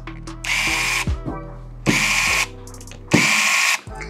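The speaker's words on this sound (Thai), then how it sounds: "เสร็จแล้วก็ถอดน็อตออกหมดเลย" A power screwdriver whirs in three separate bursts while four-point screws are backed out of a vivo Y50 phone during an LCD replacement, the close motor buzz starting and stopping with short pauses and small clicks between.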